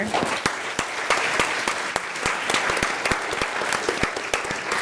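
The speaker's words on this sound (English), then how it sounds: "Can we get another round of applause for" Sustained applause from an audience, dense steady clapping with sharp individual claps standing out, continuing for several seconds with no talking.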